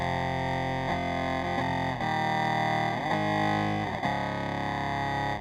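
A guitar runs through a Boss SY-1 synth pedal on its lo-fi setting, giving buzzy, gritty synth tones in a sequence of sustained notes that change about once a second, loud and close with no talk.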